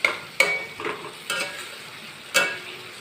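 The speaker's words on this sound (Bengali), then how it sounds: "এবার আমি মশলাটাকে ভালো করে কষিয়ে নেব যতক্ষণ না মশলা থেকে তেল ছেড়ে দেয়।" Spice masala of turmeric, coriander and cumin powder frying in oil, a steady sizzle broken by several sharp scraping stirs of a spoon against the pan, close and moderately loud, with no voices.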